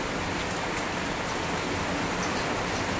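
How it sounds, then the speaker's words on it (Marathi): Rain falls steadily in a dense, even patter, a soft constant wash of drops on surfaces with no other sounds standing out. "इकडे आता पाऊस पडलाय"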